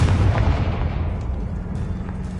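A fiery Confringo blast spell in a Harry Potter video game, a single loud booming burst with deep rumble that decays gradually over about two seconds, no talking.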